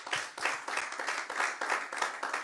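Church congregation clapping strongly during a sermon, a rhythmic, pulsing applause that keeps a steady beat of roughly two to three surges per second, moderately loud and without speech over it.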